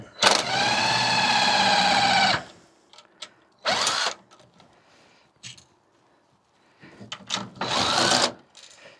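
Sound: unscrewing the bolts of a compact grinder

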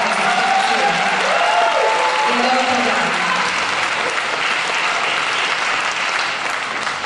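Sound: concert audience applause

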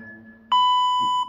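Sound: timer beep starting strength test

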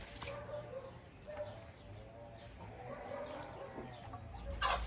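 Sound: chickens clucking

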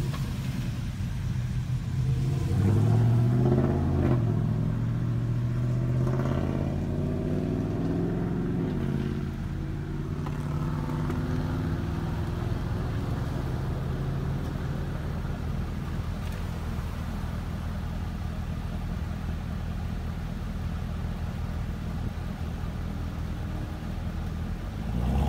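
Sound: Chevrolet Camaro ZL1 1LE engine

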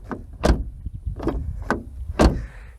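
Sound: Ford Focus car door being opened and closed

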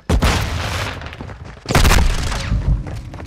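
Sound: grenade explosion in Call of Duty video game

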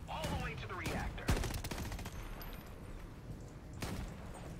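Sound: gunfire shooting a fusion ball, from video game Shatterline

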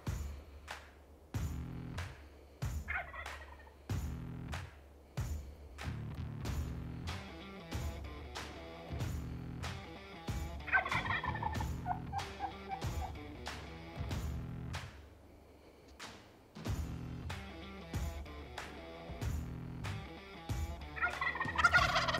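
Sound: wild turkeys gobbling

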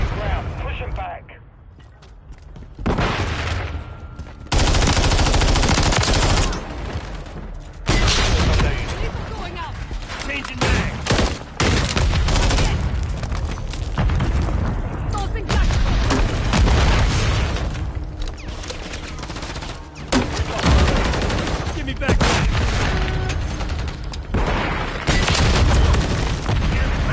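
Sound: gunfire in the video game Call of Duty: Modern Warfare III

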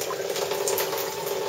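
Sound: aquaponics bell siphon draining water

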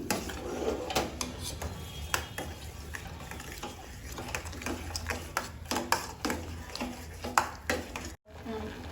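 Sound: stirring sugar into a sweet dish in a pot

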